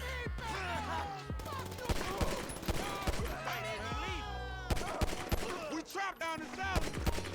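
Bursts of gunfire in GTA V mixed under someone talking continuously, the cracks of shots mostly buried beneath his voice at fairly low volume.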